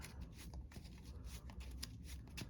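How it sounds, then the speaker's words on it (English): Crisp riffling of trading cards being shuffled, a steady fluttering patter of card edges running for a couple of seconds, close by. "Pretty clean shuffle here."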